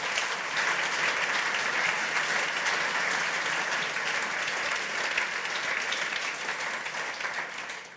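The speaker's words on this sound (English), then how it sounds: "I think a round of applause for that fantastic talk" An audience at a web developer conference applauds after a talk, dense sustained clapping that fills the room for eight seconds and tapers off at the end.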